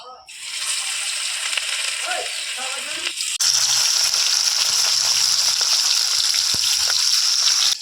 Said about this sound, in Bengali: কড়াতে দিচ্ছি তেল এবার মাছটা ভেজে নেব